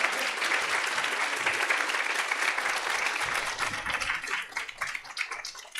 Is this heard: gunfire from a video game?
no